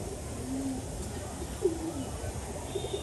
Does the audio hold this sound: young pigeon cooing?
yes